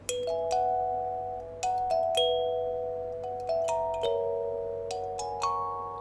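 Bright plucked kalimba notes ring out in a short melodic phrase, each tine sustaining and overlapping, played close with no talking.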